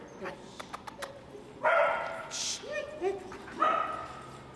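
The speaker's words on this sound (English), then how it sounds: "Who's barking?" A dog barks a few times, some barks sharp and high with whiny yelps between, near and fairly loud against a quiet room.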